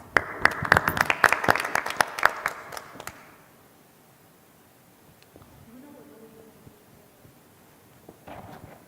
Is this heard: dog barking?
no